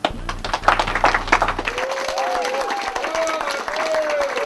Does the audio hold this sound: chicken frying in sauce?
no